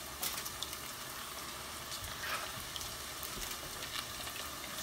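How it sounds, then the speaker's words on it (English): Empanadas frying in hot grease, a faint, steady sizzle and light bubbling crackle continuing evenly throughout with no talking. "That's the last batch of empanadas frying."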